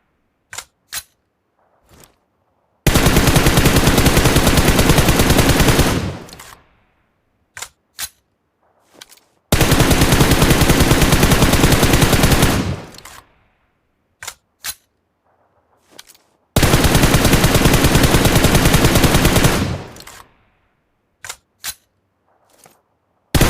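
Gunfire at practice targets in PUBG Mobile, three long sustained full-auto bursts of about three to four seconds each, loud and close, separated by short single shots and clicks, with no talking.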